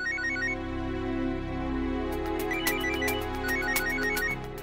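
A mobile phone ringtone plays a repeating electronic melody at steady volume for several seconds during an indoor scene in a Marathi TV serial, with no talking over it.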